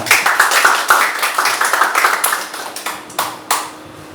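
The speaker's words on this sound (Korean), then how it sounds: "박수로 같이 모시겠습니다" A meeting audience claps to welcome a speaker presenting election management rules for a public redevelopment committee, giving a brief, uneven round of individual hand claps that thins out toward the end.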